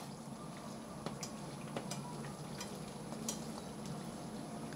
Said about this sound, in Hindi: और ये पराठे को फ्राई करने के लिए आधे से ज़्यादा पराठा हमारा तेल में डूब जाए उतने तेल में इसे फ्राई करना है